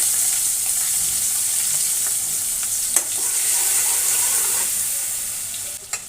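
Spices with ginger paste and a pinch of turmeric fry in hot oil, giving a loud, close, continuous sizzle with a couple of brief scraping stirs and no voices.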